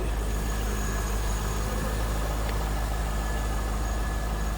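A stock 2000 Chevrolet Corvette C5 convertible engine idles steadily at low volume, a smooth continuous rumble with a faint constant hum and no other sounds.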